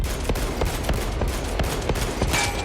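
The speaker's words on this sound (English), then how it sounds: "Light refracts off the lictor, and the Crusaders open fire." Crusaders fire a sustained volley in a Warhammer 40k battle against a lictor, with evenly spaced heavy gunshots over a dense battle roar and a brief brighter burst near the end.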